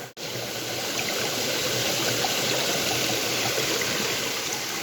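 Creek water flowing steadily during gold prospecting, a close, constant broadband rush and trickle without pauses, after a brief dropout at the very start.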